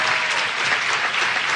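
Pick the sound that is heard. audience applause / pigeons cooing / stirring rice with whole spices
audience applause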